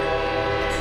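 A loud, steady horn blast sounds from overhead in a video game, a deep harmonic honk held for the whole moment with no talking.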